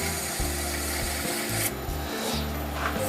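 A wooden bottle opener handle being sanded on a wood lathe at the second grit: a constant abrasive rasp over the spinning lathe's low droning hum, with a rhythmic rise and fall as the paper presses and shifts along the wood.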